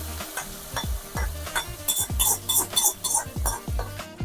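Spices fried in oil for a tadka on kadhi with pakoras give a light sizzle behind repeated metal spoon scrapes and clinks against a pan, stirred in an uneven rhythm close to the microphone.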